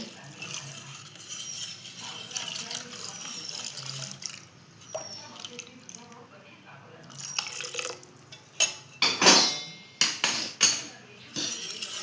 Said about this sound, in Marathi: आपण ह्याच्यात टाकणार आहोत गरम पाणी